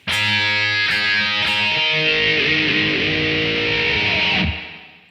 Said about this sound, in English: we're going to give it 3 hits of the whammy bar